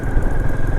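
A motorcycle rides over a potholed, unfinished road near the China border in Ladakh, its engine droning loud and close with a steady rumbling vibration and no talking.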